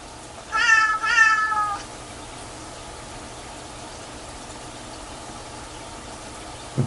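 A cat lets out two drawn-out, warbling meows in quick succession near the start, fairly close and clear, followed by several seconds of quiet room hiss.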